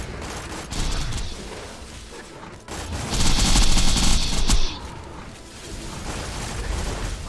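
Enemy gunfire in Borderlands, a dense barrage of shots with a louder, busier burst of fire in the middle, backed by steady game action throughout.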